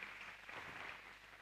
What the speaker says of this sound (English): Another round of applause, please, for Dr.